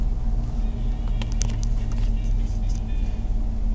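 Cars pass on a street in the open air, a steady low traffic hum with a few brief clicks and crackles, while a voice speaks faintly nearby.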